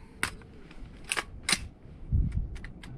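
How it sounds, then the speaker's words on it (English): An AR-15 rifle firing 55 grain full metal jacket rounds outdoors, heard as several sharp cracks spaced irregularly, followed by a duller low thump, with fainter clicks between. "we're moving up to the AR-15, shooting 55 grain full metal jacket"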